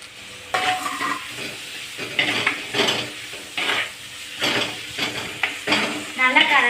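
Spoon stirring and scraping through tomatoes, onions, green chillies and curry leaves frying in a pan for chicken gravy, with sizzling and irregular clattering strokes, close up.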